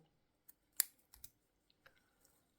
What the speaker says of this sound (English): I'm going to fasten off and pull through and cut my yarn.